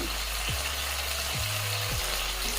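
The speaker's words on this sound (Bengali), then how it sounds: "লবণটা দিয়ে একটু নেড়ে চেড়ে নিতে হবে" Potato katli sizzling steadily in a pan as it is stirred with salt and chopped coriander leaves, a continuous close frying hiss with a few soft scraping strokes and no talking.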